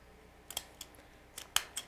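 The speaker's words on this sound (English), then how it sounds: "with a good pair of nice knife edge scissors, I can cut that out very smoothly" Knife-edge scissors cut through folded, stapled layers of appliqué stabilizer, giving a few sharp, close snips spaced irregularly across two seconds, with no talk.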